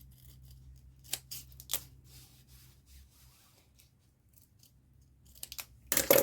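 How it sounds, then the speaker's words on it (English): Scissors cut a part for a tripod lens mount ring to size, with a few distinct close snips followed by soft rubbing and handling sounds in a quiet room. "Let's cut it on this side here."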